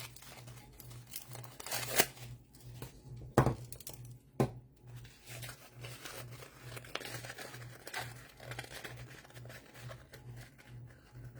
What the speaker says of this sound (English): Once it's dry, just peel it off the form.